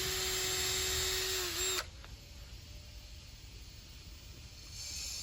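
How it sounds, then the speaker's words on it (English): A power drill whines steadily at high speed while boring holes in Mentos candies, then cuts off abruptly, leaving faint room noise and a soft hum. "I'm gonna drill some holes in these Mentos."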